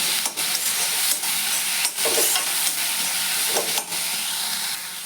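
Tomatoes and onions sauté in a frying pan with a loud, steady sizzle and hiss. Several scraping stirs cut through the frying close by, and no one speaks.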